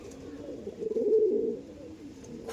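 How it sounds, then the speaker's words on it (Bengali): Andhra pigeons cooing close by, a low rolling coo that swells in the middle and fades, clear over a quiet background. "দেখছেন এই হচ্ছে পায়রা"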